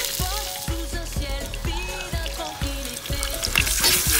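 Beef pieces sear in hot oil in a cast-iron potjie pot, a loud continuous sizzle with rhythmic scraping and clanking as the meat is turned, with no one talking.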